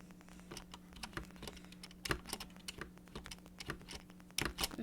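Computer keyboard keys clatter in quick irregular bursts during a game, close and moderately loud, over a steady low hum with no talking.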